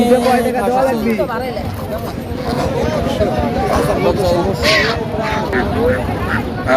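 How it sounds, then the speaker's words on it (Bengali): Domestic geese at a village livestock market in Dhaperhat, Bogura, honk and cackle nearby amid a steady hubbub of crowd chatter and voices, calling repeatedly throughout. "এখানে অনেক রাজহাঁস আছে"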